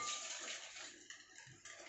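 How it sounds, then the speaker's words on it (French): Simmering milk pours from a pan into a bowl while making a flan pâtissier custard. A brief, faint, steady liquid splash and trickle is heard up close, and no one speaks. "J'en verse d'abord un petit peu"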